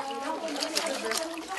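Water is poured over freshly churned butter to rinse it in an old-fashioned Bresse churning, a close, splashy trickle heard under people talking.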